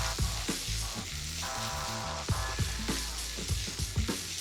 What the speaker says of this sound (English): we're gonna take the vegetables and we're gonna saute those all up